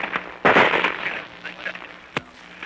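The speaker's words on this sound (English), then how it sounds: "Those, my friends, are bullets." Gunfire in a war zone at night, heard from a foxhole in March 1944: a few sharp cracking bursts with crackling between them, close and fairly loud, over a dim background hiss, with voices present.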